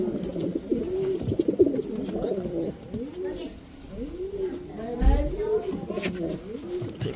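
Racing pigeons, including a female, cooing close by in repeated rolling, swooping calls under men's conversation, with brief rustling and a low thump midway.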